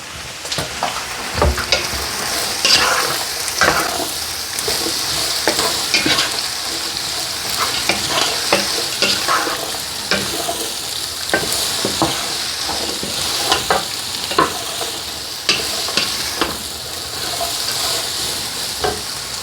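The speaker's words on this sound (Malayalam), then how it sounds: "അപ്പോൾ ഇന്ന് ഞാൻ ഈസ്റ്റേണിൻ്റെ ചിക്കൻ മസാല ഇട്ടിട്ടുള്ള കറിയാണ് വെക്കാൻ പോകുന്നത്" Chicken curry made with Eastern chicken masala sizzles steadily in a pan while a utensil stirs and scrapes at irregular intervals, loud and close with no talking.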